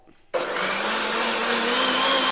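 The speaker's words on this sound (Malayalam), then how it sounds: "എണ്ണ ഒഴിച്ചിട്ട് വീണ്ടും ഇങ്ങനെ അടിച്ചുകൊണ്ടിരിക്കുന്നത് കേട്ടോ അപ്പോഴാണ് കുറച്ചൊരു തിക്നെസ് വരിക" An electric blender whipping mayonnaise as oil is added starts abruptly after a brief quiet moment, then runs as a loud, steady high-pitched whir with a rising motor tone, with no talk.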